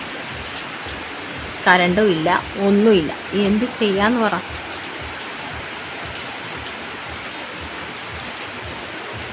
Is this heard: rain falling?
yes